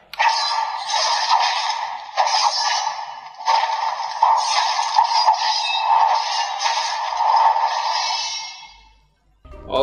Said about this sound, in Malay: kita tekan button nombor 2 untuk bunyi lawan pedang